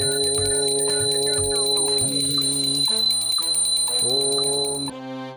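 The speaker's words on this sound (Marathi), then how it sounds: "खरंच खरंच घंटीचा आवाज येऊन राहिला" A bell rings in a Marathi TV serial scene, its steady bright metallic tone running for about five seconds over musical chords and tones, with a brief speech-like sound near the end.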